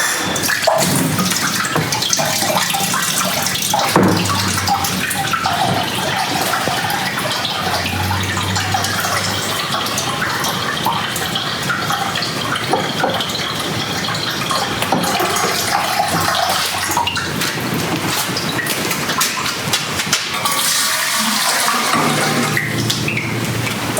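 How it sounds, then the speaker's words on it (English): Water poured steadily into a sage distiller, a continuous loud splashing and gushing that runs the whole time with brief shifts in tone and no talk. "So now we're going to put some water in here."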